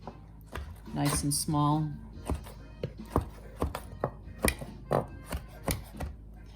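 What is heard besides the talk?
knife chopping sun-dried tomatoes on a big board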